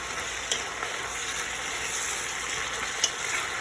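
Peppers and mixed vegetables frying in a pan for a spicy chicken-veggie wrap, a continuous bright sizzle with a couple of soft stirring knocks, close and without speech.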